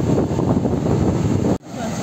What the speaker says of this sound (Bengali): বিভৎস সমুদ্রের উত্তাল একদম জল, প্রচুর ঢেউ